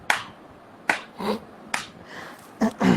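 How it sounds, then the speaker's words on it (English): A handful of slow, sharp claps from an audience at a podcast recording ring out one at a time, about five in total and spaced roughly a second apart, close and distinct with quiet gaps between. "So please a big round of applause for Bandu. Bandu. Slow claps."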